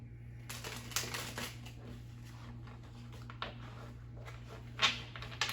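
Tarot cards being shuffled and handled for a reading, soft irregular riffles and taps over a faint low hum, quiet and close.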